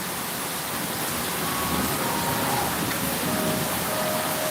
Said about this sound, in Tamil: தண்ணியாக மழை பெய்து இடி இருக்குது